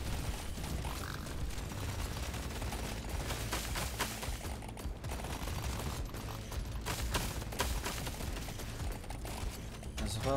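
Heavy, continuous rapid firing from the thunder cannon in Deep Rock Galactic Survivor, a dense rattling barrage mixed with mechanical clatter that runs steadily and loudly through the whole stretch.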